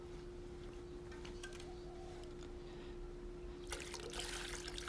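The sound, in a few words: pouring water onto a heated glass bottle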